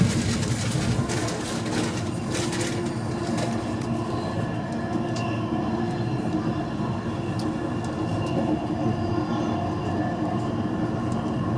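A passenger train rumbles steadily across the Mersey Bridge toward Runcorn, heard from inside with a constant loud roar of wheels and carriage noise and occasional light squeals, no talking.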